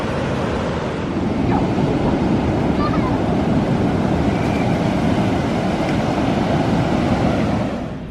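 Ocean waves at Moonlight State Beach, California: a steady, loud wash of surf mixed with wind noise on the microphone, continuous throughout, with no clear talking.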